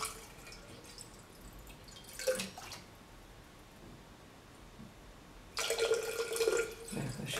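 Water is poured into a vacuum pot still in two short splashing bursts separated by quiet, with faint trickling and dripping, fairly close and soft.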